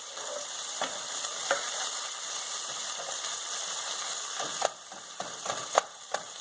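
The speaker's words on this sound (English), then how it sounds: "Put the garlic in last because I don't want that to burn" Garlic fries in a pan for rice with pigeon peas, a loud steady sizzle broken by sharp knocks and scrapes of stirring near the end.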